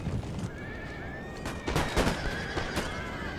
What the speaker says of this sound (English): They have 11 horses.